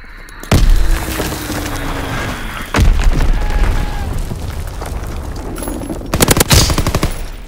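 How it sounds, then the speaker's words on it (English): Fighter plane machine guns strafing a target in a WW2 video game, with loud rapid bursts and heavy booming impacts in several separate volleys over a continuous engine-like rumble, with no talking. "Fighter pilot inbound, strafing the target."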